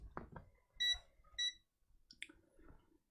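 A multimeter on continuity mode gives two short, clear electronic beeps, then a third higher chirp, while probes are stabbed across a circuit board. Soft clicks and faint handling sounds come between the tones, and the whole thing is quiet.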